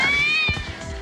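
A young calico cat gives a single drawn-out meow, close and clear, rising then falling in pitch over about a second, with no talking over it.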